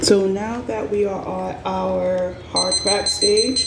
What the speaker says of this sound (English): that's my alarm letting me know that it's there.